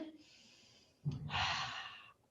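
A single short sniff through the nose during a children's wall exercise, close and soft, followed by a louder, longer breath out, with no talk over it.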